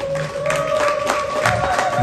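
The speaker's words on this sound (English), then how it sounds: "So I want us to give Ambassador a round of applause" An audience applauds an ambassador at an evening gathering, a steady dense wash of clapping with some cheering mixed in, filling the short moment without a break.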